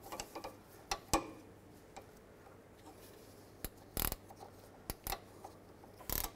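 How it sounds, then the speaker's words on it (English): Ratchet wrench clicking while tightening the sway-bar link nut on the front driver's side of a 2003–2007 Cadillac CTS, heard as scattered sharp ticks and a few short bursts of rapid clicks, fairly faint against a quiet background. "Use a ratchet wrench."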